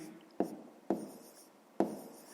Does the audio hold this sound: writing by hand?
yes